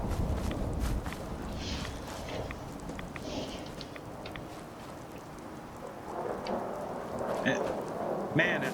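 A radiation storm in Fallout 4 brings steady, dense rain with low rolling thunder rumbling beneath it. Brief brighter crackles and what sound like footsteps come through, and the whole scene stays fairly quiet and continuous.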